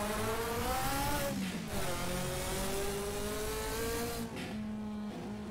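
A racing car engine in Assetto Corsa with the DRM Revival mod revs loudly and steadily, its pitch climbing and dipping with brief drops, dense and close with no voices.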